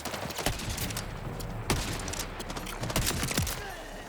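Rapid bursts of gunfire in the shooter game Borderlands 4, a dense run of sharp shots with several louder cracks standing out over continuous combat noise.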